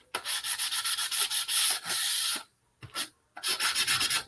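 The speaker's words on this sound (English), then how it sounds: "I'm just going to sand off the edges" Sandpaper rubs back and forth along the edges of a serving tray in a fast run of short rasping strokes, then pauses briefly before two more bursts of close, steady scraping.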